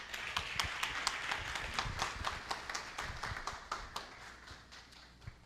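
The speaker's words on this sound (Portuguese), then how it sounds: "Obrigado pelos aplausos" Audience applause at a clinical naturopathy graduation ceremony: a steady patter of clapping from a modest crowd, fairly faint and distant, gradually thinning out.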